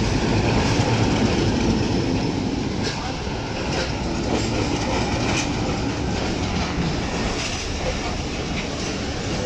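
Passenger trains roll out from a platform at Wazirabad Junction while heard from inside a second-class coach, giving a loud, steady rumble with wheel clatter and faint squeal throughout.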